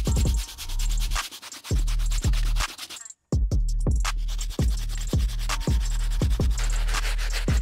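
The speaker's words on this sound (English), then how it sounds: "Sometimes it doesn't fully come off, but the Stiff Bristle Brush should do the trick." A stiff bristle brush scrubs the soles of Air Jordan 1 sneakers in quick, steady back-and-forth strokes, close and loud, with one brief pause in the middle.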